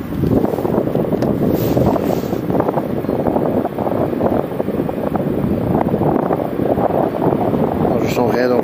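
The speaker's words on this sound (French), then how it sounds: "il y a le vent qui souffle beaucoup trop" Steady, heavy wind rumble buffets the microphone throughout on the bank of the Sambre river at Marcinelle, a continuous low roar with no pauses.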